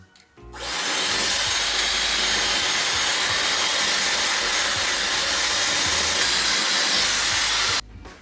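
Dyson Airwrap blowing hot air at middle heat and middle speed to dry hair, a steady loud broadband whoosh starting abruptly after half a second and holding constant for about seven seconds before cutting off.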